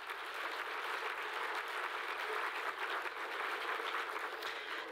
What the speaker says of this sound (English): Give all of our current recipients so far another round of applause